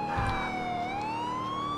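Police car sirens in GTA IV, a loud wailing tone sweeping down then rising again as vehicles pass close by, over traffic rumble, no talk.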